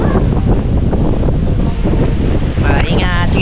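Strong super typhoon wind at landfall in Batangas roars and buffets the microphone in a loud, unbroken rush, with a voice faintly mixed in near the end.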